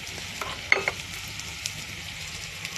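A paste of ginger, cumin and chili hits frying paneer in a pan, giving a steady close sizzle with a few sharp stirring clicks early on; there is no talking.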